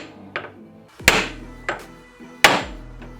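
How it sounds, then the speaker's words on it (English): A ball peen hammer strikes a snowmobile ball joint to knock it free, two heavy metallic whacks ringing out up close, with lighter taps in between. "I'm gonna take my ball peen and I'm gonna hit it pretty dang hard right here"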